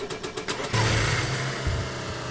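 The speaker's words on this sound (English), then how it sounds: "The engine is working, everything's going pretty good." A car in DayZ cranks with rapid rhythmic starter pulses, then the engine catches and settles into a steady, fairly loud idle rumble.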